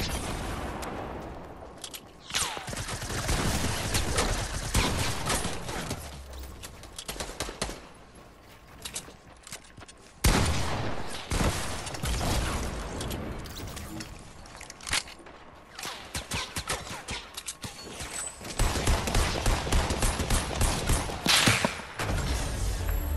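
A scoped assault rifle in Fortnite fires in rapid bursts of cracking shots, loud dense volleys that come and go across the stretch, with footsteps and game noise between them and people talking over the top.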